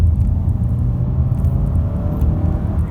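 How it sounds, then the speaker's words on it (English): Engine of a 2019 Honda Jazz ESi with a 100 horsepower VTEC petrol engine, heard from inside the car as a steady, loud low rumble with a faint rising whine, no talking. "What I really like about the Jazz is this 100 horsepower engine"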